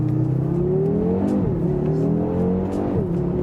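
An Audi RS3 engine revs loudly and up close as the driver downshifts in manual mode, with a steady droning pitch that dips and jumps at each shift.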